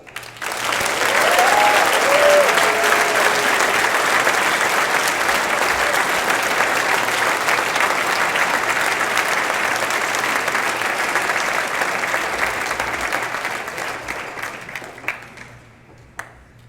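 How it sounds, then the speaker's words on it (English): Fraternity brothers at a Lambda Chi Alpha award event break into loud, sustained applause that holds steady, then fades toward the end, with a few whoops near the start. "let's give a rousing Lambda Chi Alpha clapping and cheer for Tyler Tordsen"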